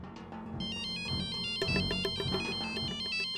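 A telephone ringtone plays continuously in a domestic television drama scene, a busy electronic melody repeating in quick bursts at steady moderate loudness, with no voices over it.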